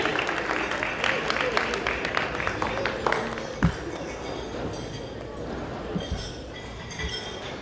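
Wedding guests clap in a loose, scattered round of applause that fades toward the end, with voices talking over it.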